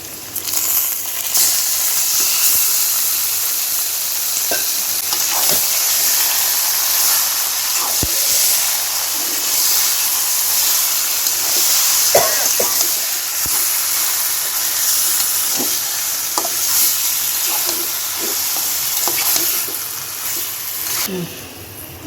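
Spice-coated pork hitting a pan of deep-fried, browned onions, giving a loud continuous sizzle with occasional clicks and stirring scrapes throughout.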